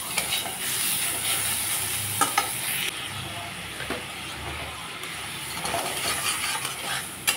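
Spices with cumin and coriander powder sauté for a fish curry in a hot pan, giving a continuous close sizzle with occasional scraping stirs and soft clatter. No voices are heard.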